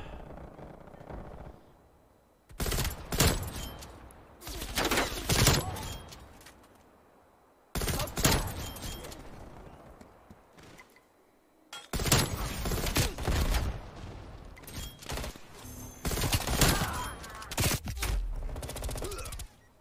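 Call of Duty Black Ops Cold War gunfire comes in several loud, close bursts of rapid shots, separated by brief quiet gaps, with no clear talk.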